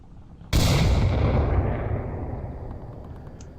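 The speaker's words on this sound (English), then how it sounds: "Looks like we have some shots fired over here on the East Street." One sudden, loud, close blast of gunfire in the VR shooter game Onward, with a booming report that rolls off into a long, fading echo.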